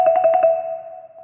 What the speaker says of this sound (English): So whereas a trill might sound like this